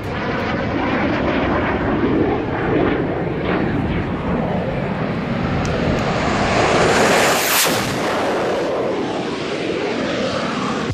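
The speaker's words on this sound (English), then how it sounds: "This plane flying really close to the ground." A plane flying low and close to the ground roars past loudly, the engine noise swelling to a peak and sweeping overhead before easing slightly, with a faint voice in the background.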